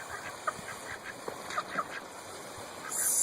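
Scattered duck quacks and short honking calls over a steady outdoor hiss, several ducks calling irregularly at moderate distance around a pool.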